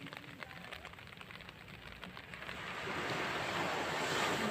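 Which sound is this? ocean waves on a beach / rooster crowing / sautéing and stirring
ocean waves on a beach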